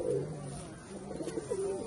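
Soft, low pigeon coos repeat in short murmuring phrases, close by and fairly quiet.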